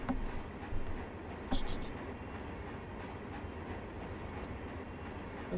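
An Amtrak passenger train runs in the Run8 train simulator on the Sanford Subdivision, giving a steady rumbling rail noise with a few faint clicks and brief higher-pitched bursts. No one speaks.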